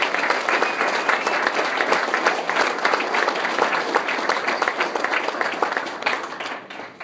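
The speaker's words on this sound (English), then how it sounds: "Let's give all of them a round of applause." Steady audience applause at an evening congressional debate event in a host's home, dense clapping from a modest crowd holding an even level for several seconds before tapering slightly.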